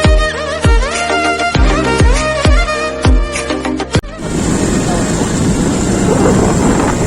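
A motorbike starts up and rides off, its engine and rushing wind making a loud, steady broadband roar over the second half after a stretch of plucked music.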